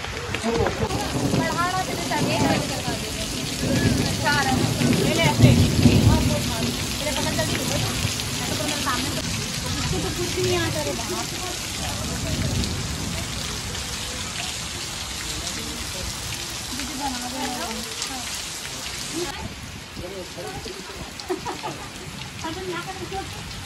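Heavy rain pours steadily at an outdoor birthday gathering. There is a deeper rumbling swell early on, and people talk under the dense hiss of the downpour throughout.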